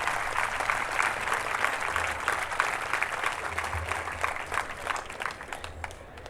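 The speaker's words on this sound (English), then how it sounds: "I would request a resounding applause for her" Audience applause at the closing ceremony of a literature festival in Karachi, a steady dense patter of many hands clapping throughout, moderately loud and tapering slightly near the end.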